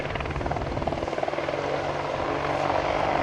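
An Apache helicopter displays at the Biggin Hill air show in 2008, its rotor thudding loud and close in a fast rhythmic chop over steady engine roar.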